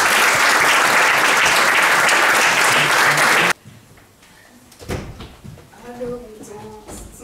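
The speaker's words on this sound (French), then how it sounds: "Merci déjà de vos applaudissements." A theatre audience bursts into loud, dense applause that cuts off abruptly after about three and a half seconds, followed by quiet room sounds and a person talking.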